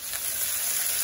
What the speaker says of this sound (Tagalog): Yan yung mga parating ginigisa yung sibuyas bawang natin.